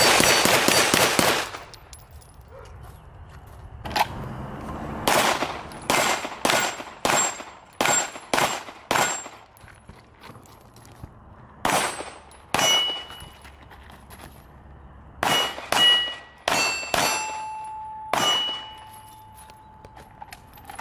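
Pistol shots fired in quick bill drill strings at an outdoor range, each crack followed by sharp metallic pings from the steel targets, in irregular bursts with pauses between them.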